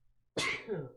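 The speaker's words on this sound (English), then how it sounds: "I have to sneeze." A single sharp sneeze bursts out close and loud after a brief quiet moment, trailing off quickly.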